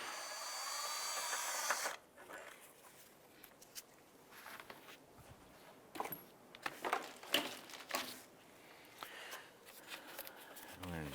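Wrench loosening a 10mm bolt on a 2001-2005 Honda Civic engine during EGR valve replacement, heard as close, irregular metallic clicks and scraping bursts over a quiet background.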